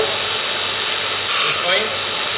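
A hydraulic hose pressure test machine runs with a dense, steady buzzing drone, close and continuous throughout with a slight swell near the end.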